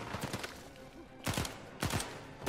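Gunfire from the Uncharted 4 video game crackles in repeated sharp bursts, loud and close, over a constant noisy background.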